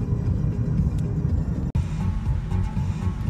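A car drives along a Moscow road strewn with trees toppled by a hurricane, its steady low engine and road rumble continuous and close throughout, broken once by a brief sharp click.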